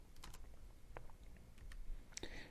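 Keystrokes on a keyboard as a sentence is typed into a phone app layout, a handful of sparse, quiet clicks spread over a couple of seconds with no talking.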